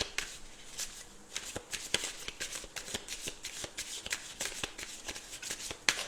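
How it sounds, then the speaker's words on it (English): A deck of tarot cards is shuffled close by in a quick, irregular series of crisp riffling slaps and snaps, steady at moderate volume for several seconds without talk. "if you see cards being skipped, it's not because I don't know how to shuffle"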